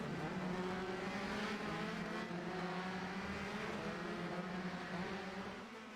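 Race cars in a racing video game drone together in a dense pack, a constant loud engine roar with overlapping whines that fades slightly at the end.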